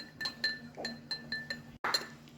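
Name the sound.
spoon clinking in glass while stirring Skooma Absinthe drink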